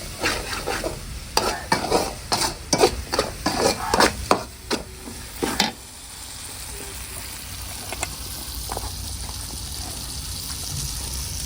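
A spoon scrapes and clinks rhythmically in a beetroot and carrot mixture with turmeric powder, several quick strokes in the first half. A steady wet, fizzing hiss fills the rest.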